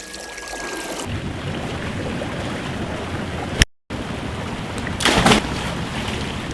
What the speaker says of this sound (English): Alexa, ask Hayward to turn on the blower.